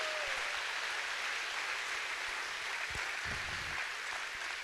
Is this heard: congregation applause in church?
yes